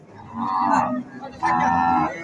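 A lean dairy cow at a cattle market lets out two long, loud moos, one after the other with a short pause between, and no talking over them.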